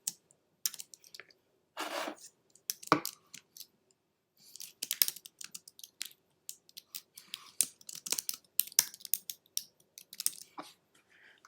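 Typing on a computer keyboard, irregular bursts of close, crisp key clicks separated by short silent pauses.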